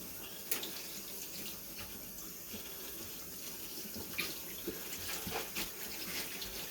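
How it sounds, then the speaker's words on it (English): Tap water runs steadily into a sink during cleaning, a continuous splashing hiss with small clinks and knocks scattered through it, moderately quiet and unbroken throughout. "I'm still going to clean my sink out because I don't like dirt myself"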